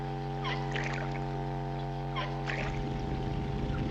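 A steady low engine drone hums throughout with faint lapping water, while distant bird chirps come and go; no one talks.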